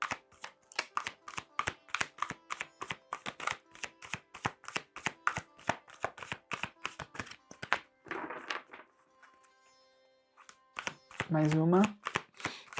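Tarot cards are shuffled in a long run of rapid, evenly spaced papery flicks, followed by a brief riffle and softer handling as cards are drawn. A voice speaks briefly near the end.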